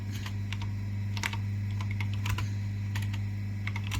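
Typing a command on a computer keyboard: irregular clusters of crisp key clicks, close and clear, over a steady low electrical hum.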